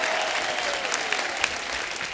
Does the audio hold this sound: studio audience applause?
yes